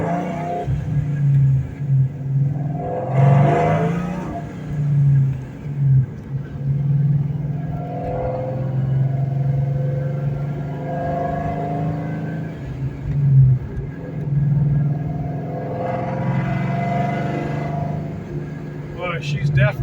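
Deep engine rumble of a 2004 Ford Mustang Mach 1 with a 32-valve dual overhead cam V8, rising and falling as it revs while driving, with a person talking over it much of the time.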